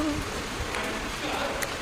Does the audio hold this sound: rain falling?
yes